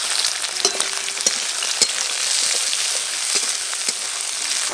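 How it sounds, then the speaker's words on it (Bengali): Tomato and chopped capsicum are stir-fried briefly in white oil with garlic and ginger for fried rice, giving a steady close sizzle with scattered clicks and knocks of stirring throughout, with no talk. "টমেটো আর ক্যাপসিকাম কিন্তু আমি খুব বেশি ভাজা করবো না দু একবার হালকা করে নেড়ে নিয়েছি"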